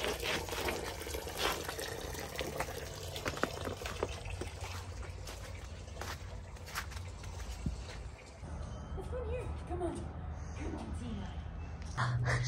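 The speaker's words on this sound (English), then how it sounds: "Draining all the fluids." Fluids draining from a Ford F-250 truck with a custom fabricated suspension during teardown, a continuous pouring, splashing flow heard close, while people talk in the background.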